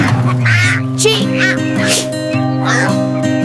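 A voice imitates a duckling with bright, nasal quacks that come in quick repeated bursts. A steady low engine-like drone runs underneath, with close, loud sound throughout.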